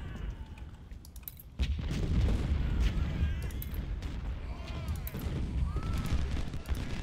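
Artillery from the Civil War game Ultimate General: Civil War booms in a heavy, continuous barrage, starting softer and then jumping into loud, overlapping low thuds and cracks.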